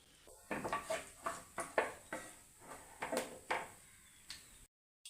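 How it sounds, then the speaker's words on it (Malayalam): Mustard seeds popping in hot oil for a vendakka mappas (okra) curry: a dozen or so sharp, crackling pops at an uneven rhythm, close and fairly quiet, ending abruptly. "കടുക് പൊട്ടി"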